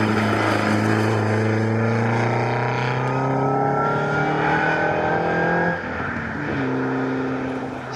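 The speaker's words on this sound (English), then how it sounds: "I think Andrew Moore in the E-Type accelerated back ahead of him" Historic race cars, including a Jaguar E-Type, accelerate past at Snetterton with loud, rising engine drones that climb in pitch, then a brief dip as another car follows close behind.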